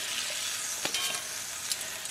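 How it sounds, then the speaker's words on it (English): A steak sizzles in a hot pan with lemon juice, a constant crackling hiss broken by a few sharper pops and brief stirring sounds, close and alone without speech. "Kind of starting to sizzle."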